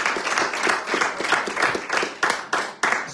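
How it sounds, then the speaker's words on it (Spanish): A church congregation claps together in a steady rhythmic applause, with many hands beating roughly three times a second, fairly close and lively. "Denle una fuerte ofrenda de palmas al Señor"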